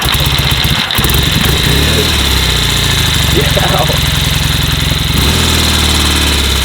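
A 1975 Norton motorcycle engine runs steadily close by, a loud, continuous throbbing idle with a brief dip near the start and a shift in tone toward the end.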